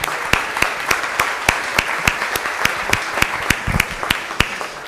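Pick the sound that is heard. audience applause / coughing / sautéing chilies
audience applause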